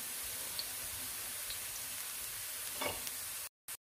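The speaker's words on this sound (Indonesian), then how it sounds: "Bawang bombay dan bawang putih digoreng." Onions and garlic fry in a pan with a steady, close sizzle and a few faint scraping stirs before the sound cuts off abruptly near the end.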